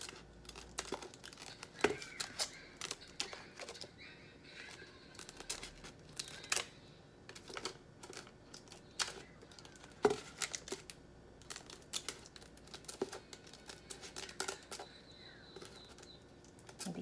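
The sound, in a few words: scissors cutting paper or vinyl for a cake board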